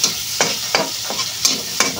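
Onions (sibuyas Bombay) frying in oil in a pan, with a steady sizzle and rhythmic scraping strokes of a spoon stirring them.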